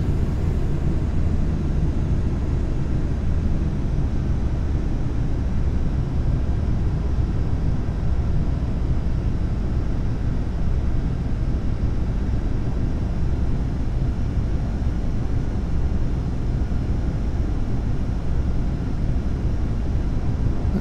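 A steady low, broadband airplane engine drone and airflow rumble fills a Microsoft Flight Simulator X cockpit as spoilers deploy, loud and unchanging throughout with no talk.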